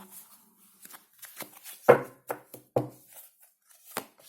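Soft riffling and slapping of tarot cards being shuffled, a few sharper snaps in quick succession, close by with no talking.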